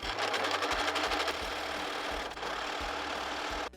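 A sewing machine stitches a jeans seam close by in quick bursts, a rapid mechanical whirr with brief pauses as it runs forward and back.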